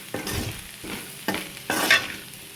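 Broad bean pieces fry in a pan while a spoon stirs them, giving a soft sizzle broken by several distinct scraping strokes, close and fairly quiet, with no talking.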